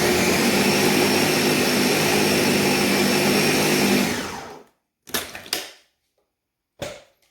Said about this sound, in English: I'll just blend it for a few more because I could already tell that it's blended.